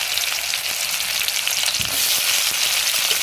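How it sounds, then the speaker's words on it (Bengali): Sliced onion and green chillies fry in hot cooking oil on a stove, giving a steady, close, dense sizzle with a brief stirring clatter midway and no talk. "দেখো লঙ্কাটা ভাজা হয়ে গেছে, এর মধ্যে এবারে পেঁয়াজটা দিয়ে দিচ্ছি"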